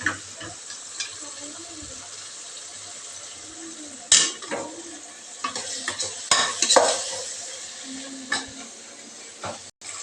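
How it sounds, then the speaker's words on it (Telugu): Oil and ingredients stirred in a pan for a vegetable biryani and chicken curry, spoon scrapes and clinks over a quiet sizzle, with a few louder knocks against the pan. "అందులో కొంచెం ఆయిల్, ఇవన్నీ వేసుకున్నాక ఒకసారి బాగా కలుపుకోవాలి"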